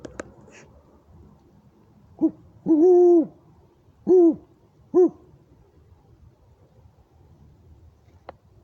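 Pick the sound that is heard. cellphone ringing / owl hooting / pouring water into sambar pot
owl hooting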